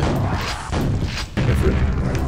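Heavy gunfire booms in the video game Quake, several deep, loud blasts in quick succession with brief gaps between them.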